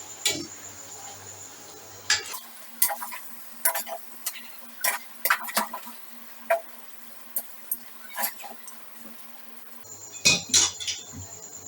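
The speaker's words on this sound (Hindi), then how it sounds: "ये सॉस डाल देंगे इसके अंदर और इसको शामिल करेंगे, ऐसे मिक्स करेंगे" Sauce being mixed into chicken chow mein in a pan: repeated irregular clinks and scrapes of a utensil against the pan, close and crisp, with a low kitchen hum underneath and no talk.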